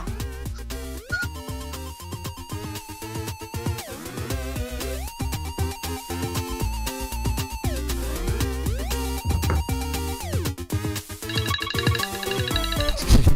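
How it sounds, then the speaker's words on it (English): A telephone ringtone rings loud and clear in a repeating electronic melody that plays over and over for several seconds. "There's the phone call."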